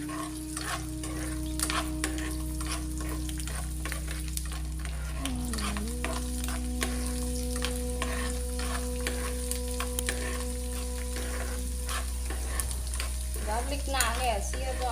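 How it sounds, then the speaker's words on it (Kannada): Garlic frying in a pan until golden, with a constant close sizzle and frequent stirring scrapes, a steady hum underneath and a brief squeaky scrape near the end. "ಇದು ನೀಟಾಗಿ ಗೋಲ್ಡನ್ ಕಲರ್ ಬರೋವರೆಗೂ ಫ್ರೈ ಮಾಡ್ಕೋಬೇಕು."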